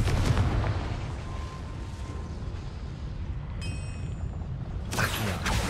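Confringo spell explosion in the Hogwarts Legacy video game, a deep rumbling boom opening the clip and decaying into roaring noise, then a sharp burst near the end.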